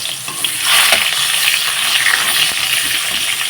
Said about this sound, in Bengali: এখন কিন্তু আমি এই যে কড়ার মধ্যে কিন্তু পেঁয়াজগুলো দিয়ে দেব।